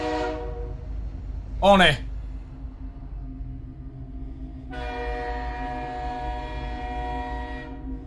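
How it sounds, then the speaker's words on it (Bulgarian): A train in the Granny horror video game announces its approach with a long, steady horn-like tone that starts partway through and holds to the end, after a brief rising chirp, over a low rumble and a short spoken exclamation. "че влака идва"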